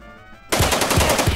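Suppressive machine gun fire from Jagged Alliance 2 starts abruptly after a quiet moment. It continues as a loud, rapid burst of close shots with a regular rhythm.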